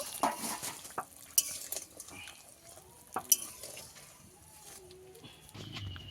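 In a pot of pumpkin curry, fried fish roe is stirred in with a spoon that clinks and scrapes against the metal in scattered knocks, close but quiet, with low background noise.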